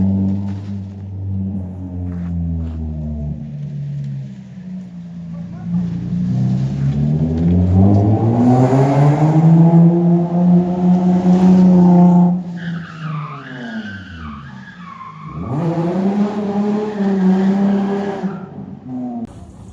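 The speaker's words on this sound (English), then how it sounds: "fixed the car, got it running" A Nissan 350Z with solid subframes and a hydraulic handbrake, engine revving loudly with rising and falling pitch, sustained tire squeal and skidding close by, no talk.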